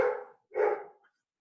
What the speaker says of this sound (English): forgive my dog barking in the background here